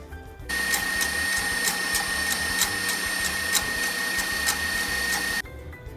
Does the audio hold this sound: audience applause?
no